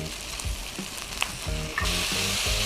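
Carrot and potato pieces sauté with browned bolognese-style minced meat in a pan, a steady close sizzle broken by rhythmic stirring scrapes, the hiss growing louder and brighter near the end, with no talking.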